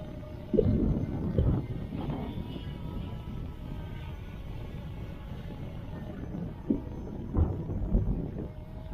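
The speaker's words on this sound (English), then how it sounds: "Very strong wind." Strong wind buffeting a microphone outdoors on a windy day during a C-Fly Faith 2 drone test, a continuous low rumbling roar with a few louder gusts, no speech.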